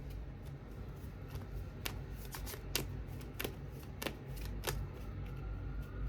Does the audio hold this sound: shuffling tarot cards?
yes